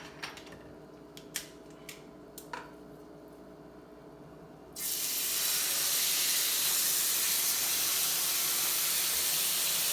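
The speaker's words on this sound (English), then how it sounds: "I'm going to do is put a nice sear on both sides of the pork" Pork chops drop into a hot pan of olive oil, and a loud, steady sizzle suddenly takes over from a quiet stretch broken only by a few clicks and taps.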